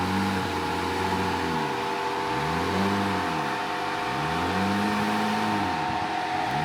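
An off-road vehicle crawls along a narrow cliffside trail, its engine droning steadily with slow rises and falls in revs as it works over the terrain. The sound is close and continuous, with no talk.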